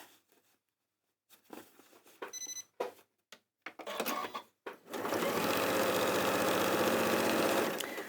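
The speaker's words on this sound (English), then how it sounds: "Leave the needle down as you pivot around, and sew down the next side." A sewing machine stitching the seam of a small summer bag made from fat quarter fabric, first in short stop-start bursts with pauses, then running steadily and loudly for several seconds.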